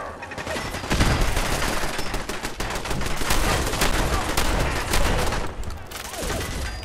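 Shotgun gunfire in Fallout 4, loud dense blasts and rattling shots continuing through, mixed with other combat noise and no clear talking.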